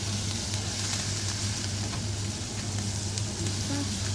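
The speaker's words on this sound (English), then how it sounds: "And you stir it for a few seconds" Potatoes with fresh coriander sizzling and frying in a pan while being stirred, a steady close crackling hiss with a low hum underneath and faint scraping.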